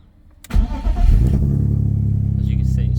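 A BMW E46 car engine cranks briefly and catches at once, then settles into a steady, close idle with a fast rhythmic pulse.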